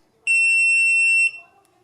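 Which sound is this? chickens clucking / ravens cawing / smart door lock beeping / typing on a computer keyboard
smart door lock beeping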